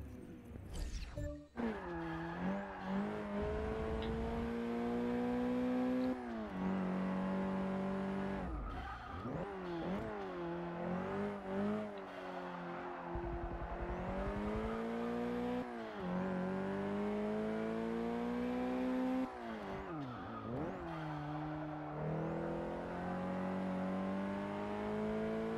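Hot hatch engine in Forza Motorsport 6, revving hard through repeated gear changes with rising and falling whine and tire squeal, loud and continuous throughout.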